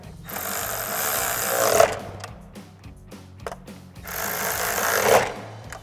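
A power tool whirs in two sustained bursts, driving a nut onto a stud while installing a J&L 3.0 black anodized oil separator on the driver side of a 2018-2023 Ford Mustang, with a brief quieter pause between runs.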